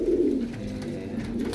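Breeder pigeons in Faisalabad, Pakistan, cooing close by in low, throaty, rolling calls that continue steadily through the short moment with no talk.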